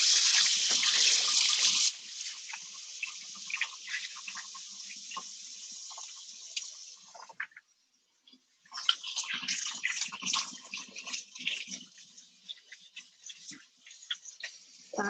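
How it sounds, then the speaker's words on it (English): Hands are washed under a running tap at a home kitchen sink, with water hissing steadily at first. Softer splashing and rubbing follow, then a brief pause, and the water comes back in fainter, uneven bursts. "I'm just gonna go wash my hands real quick"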